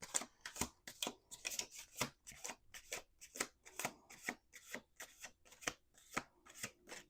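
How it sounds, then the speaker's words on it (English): A deck of playing cards shuffled over and over in quick riffles, a dense run of crisp, close paper flutters coming in short bursts at a steady, regular rhythm with no voices. "Let's do 2 more shuffles."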